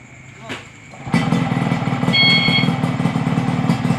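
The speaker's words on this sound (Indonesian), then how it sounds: "motor RX King gila keren banget, bisa bunyi lewat remote" A short remote click, then a Yamaha RX King motorcycle engine suddenly kicks on and settles into a loud, rumbling idle close by.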